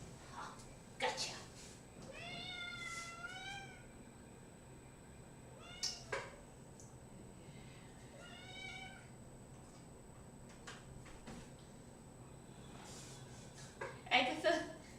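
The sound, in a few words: cat meowing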